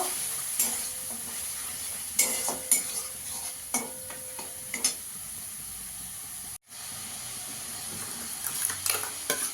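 Ginger, garlic and green chili paste sautéed in a pan for egg korma, a steady sizzle with repeated scraping stirs, a brief dropout midway, then stirring resumes; no talking.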